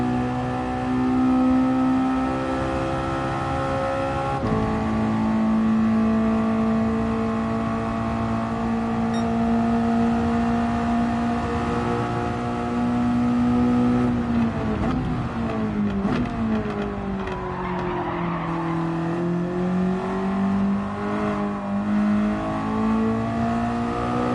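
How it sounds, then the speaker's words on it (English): Continuous engine drone of a racing car in a video game with steady harmonic whine that shifts pitch as it revs up and down, plus faint tire noise; no talking. "I'm just listening to that engine, listening to the tires"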